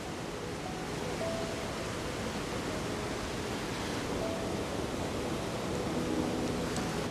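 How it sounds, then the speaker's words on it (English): A steady broadband roar of falling water from a full autumn waterfall, moderately distant and fairly quiet, constant with no breaks and no voices. "We're starting off with the waterfall that I didn't get around to capturing last time I was here"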